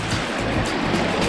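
Water rushes steadily over the riffles of a sluice box at a gold prospecting claim in Arizona, a loud, continuous churning wash with no voices.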